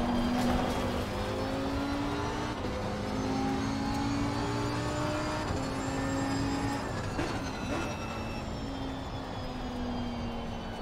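Race car engine in Assetto Corsa Competizione lapping Paul Ricard, a steady drone with rising and falling pitch as it shifts gears, held loud and close throughout.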